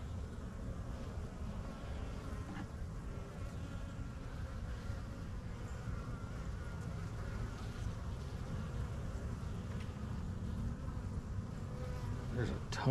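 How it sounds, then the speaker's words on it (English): A dense, steady buzzing of many honeybees fills the clip, close and continuous, with a low droning hum throughout. "There's a ton of bees on this side."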